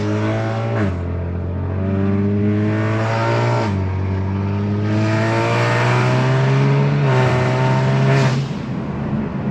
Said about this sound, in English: Dude, this thing's really loud. It's like a freaking trombone because there's no resonators.